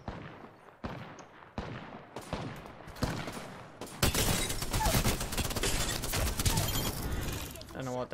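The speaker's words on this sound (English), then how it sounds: "They're shooting us." Gunfire in the video game Apex Legends: a few separated sharp shots, then a dense, loud burst of rapid automatic fire that rattles on continuously, close by, with players talking over it.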